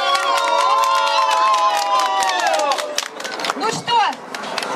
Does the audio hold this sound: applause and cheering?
yes